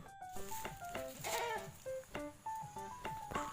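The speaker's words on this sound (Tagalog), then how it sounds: "magwawalay tayo ng ating mga kambing" Young goats and adult goats bleat repeatedly in a farm pen, several overlapping cries coming close together in quick succession, nearby and fairly loud with no talking.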